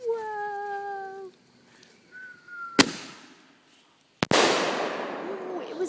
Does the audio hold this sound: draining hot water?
no